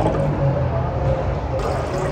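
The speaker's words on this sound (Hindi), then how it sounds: "सबसे पहले हम पानी डालेंगे।" Water poured steadily into a cooking pot as the first step of a dried plum (aloo bukhara) chutney, a continuous splashing fill running throughout, close and fairly loud.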